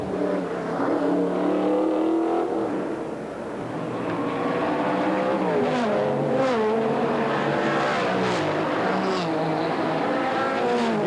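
Trans Am race cars roar down a straightaway on the St. Petersburg street circuit in 1986, engines loud and rising in pitch as they pass, with revving and shifting heard over crowd and track noise.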